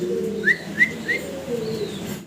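A pair of fancy pigeons coo in low, steady tones throughout, with three short, bright chirps near the start and a fainter whistle-like call later.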